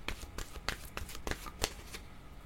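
Tarot cards are shuffled close by in a quick, papery riffle of rapid flicks and soft slaps, all fairly quiet with no talking.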